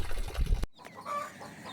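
Chickens on a backyard flock cluck in short bursts, with a loud close rustle in the opening moments giving way to softer scattered fowl calls.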